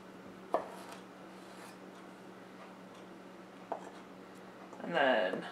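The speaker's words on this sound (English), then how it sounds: "the best way to cut very fine tomatoes is to cut them lengthwise first" A very sharp knife slices tomatoes lengthwise for tacos, giving two crisp, isolated taps on the board spaced a few seconds apart over a steady low room hum, followed by a short burst of muffled, voice-like sound near the end.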